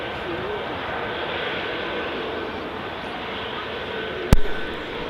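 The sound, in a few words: EasyJet Airbus A320neo jet airplane from Gibraltar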